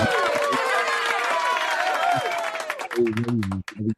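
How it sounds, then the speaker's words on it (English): An audience at a talk about a woman Harley-Davidson technician breaks into a round of applause mixed with cheering voices, thinning toward a few scattered claps at the end. "I'm gonna give her a round of applause as well"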